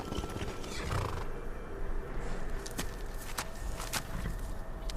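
A horse in Skyrim gives a loud, drawn-out whinny over steady hoofbeats and ambient game noise, followed by sharper clip-clop steps.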